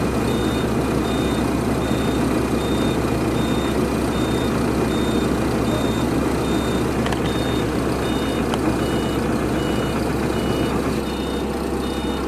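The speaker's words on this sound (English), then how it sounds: "most people hate it when you have to get the bus from the plane to the terminal" An airport bus idles close by with a steady low engine rumble, and regular reversing beeps sound throughout.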